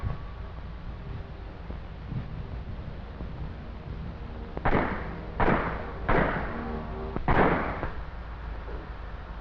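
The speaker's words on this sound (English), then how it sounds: "we went to the 30-yard range and learned to use our personal weapons," Revolvers fired on a 30-yard army firing range at Camp Borden, Canada, in 1940: four sharp, fairly loud reports in quick irregular succession over a low steady background hiss.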